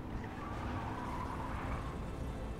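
Car engine and tyre noise during a handbrake slide while driving in The Matrix PS5 game, a steady continuous roar with no break, heard alone.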